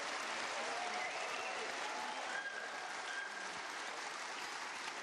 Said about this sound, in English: Warmly appreciated by this large crowd at the Kai Tak Arena